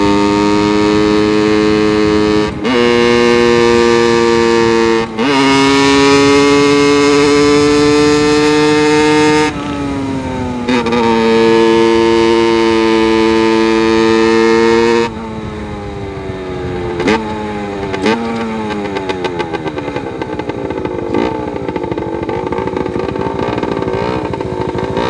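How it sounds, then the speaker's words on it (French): A two-stroke engine runs with no silencer and the exhaust resonates, giving a loud, buzzing drone with strong tonal harmonics that rise and fall as the revs change. Brief cuts and a rougher, lower idle follow later. "C'est là qu'on voit à quel point le deux temps, ça résonne. On entend là la résonance dans le pot."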